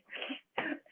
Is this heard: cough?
yes